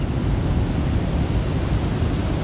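Ocean waves breaking on the Northumberland coast in winter, a loud, continuous, rumbling surf wash mixed with wind buffeting the microphone, with no voices.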